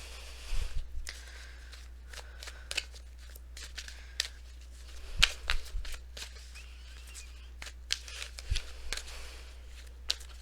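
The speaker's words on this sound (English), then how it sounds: "I'm just going to go ahead and pull these cards" Tarot cards shuffled and drawn from a deck during a reading, giving soft papery riffles and flicks in scattered bursts, with a constant low hum underneath.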